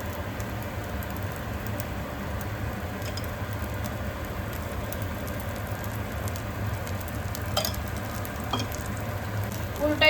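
Potato paratha sizzling steadily on a hot pan, a continuous close frying hiss with faint crackles throughout and no talk.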